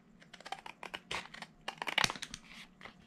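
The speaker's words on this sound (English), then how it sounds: "So I'm just going to cut this out." Scissors snip through a paper box topper that already has a decorative border, giving a quick run of close, crisp cuts and crinkles with no talking.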